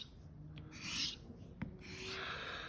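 A straight razor rasps across a DMT diamond plate used wet, a steady scraping stroke with one sharp tick midway, close and alone with no voices.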